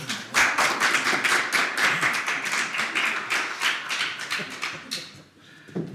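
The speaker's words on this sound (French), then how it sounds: "merci pour vos applaudissements" An audience claps in a Brussels conference hall, a dense burst of hand claps close by that fades out after about five seconds, then a short clatter.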